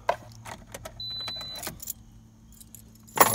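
Car keys jangle in brief, sharp bursts close by inside a quiet parked car, a few separate shakes over a few seconds with a faint electronic tone in between.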